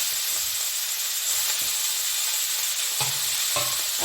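Spinach hits hot oil with turmeric in a pan for an ilish-palong dish, giving a steady, bright sizzle with a couple of soft stirring knocks near the end and no talking.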